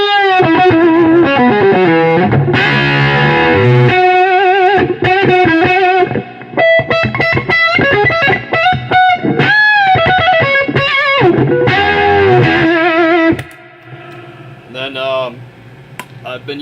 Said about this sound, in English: It's a Gnarly Fuzz by Custom Audio, and yeah, it just kind of gets half between like a fuzz and an octave